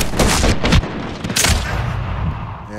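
Rapid gunfire in Medal of Honor Warfighter, a loud close burst of sharp shots in quick succession, then a fading echoing tail with no talk.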